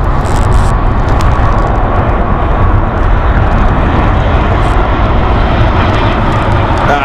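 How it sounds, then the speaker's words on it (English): A British Airways Airbus A320 at Heathrow Airport in fog gives off a broad, loud, continuous jet engine roar, steady and close, with no speech over it. "This is the Airbus A320 flight with British Airways Speedbird 1341."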